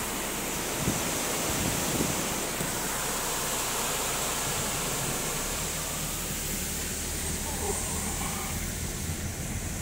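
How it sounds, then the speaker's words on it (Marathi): A monsoon waterfall near Temghar Dam roars in a dense, steady rush with wind buffeting the microphone and no break for the whole stretch. "धबधबा पाहिला का?"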